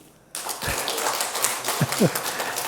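Church congregation clapping for the pastor after a sermon: broad dense crackle of many hands starting abruptly and continuing steadily, with a few voices murmuring underneath.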